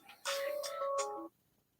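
A phone rings in a short electronic melody, a quick sequence of bright tones lasting about a second, heard clearly against a quiet background with no talking.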